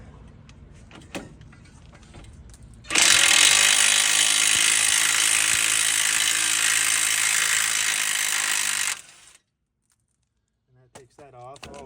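An impact wrench with a deep socket zips steadily for about six seconds, loosening the upper ball joint nut on a 2008 Chevy Trailblazer. It is loud and close, then it stops, and a voice follows.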